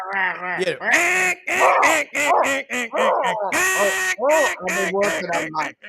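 A hand-blown duck call is worked in rapid, choppy quacking bursts in the style of a feed call. The sound is loud and close and runs almost continuously through the clip.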